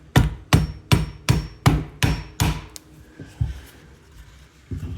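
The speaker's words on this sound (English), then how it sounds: "We'll hit it with a hammer a little bit." A hammer strikes a metal SKS rifle rear sight base seven times in a quick, even rhythm, ringing sharply, followed by a few softer taps and quiet handling.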